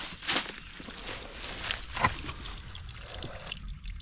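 Water trickling steadily from a captured pipe spring beside an old stone ruin, a soft continuous dribble heard close by with faint outdoor movement in the background.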